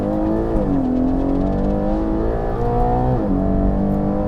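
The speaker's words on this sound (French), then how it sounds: "Alors vous pouvez l'entendre, le V12, ses vocalises sont tout simplement envoûtantes." A 725 hp Ferrari Purosangue V12 crossover accelerates hard from a standing start, its engine note climbing in loud, close pitch sweeps through successive gear changes, heard from inside the cabin.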